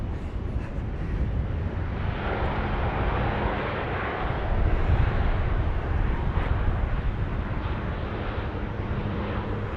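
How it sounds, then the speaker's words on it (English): A Q400 turboprop airliner takes off at Sydney Airport, a steady, broad engine roar heard from a distance that holds level and swells slightly midway, with no talk. "So this Q400 clear for takeoff."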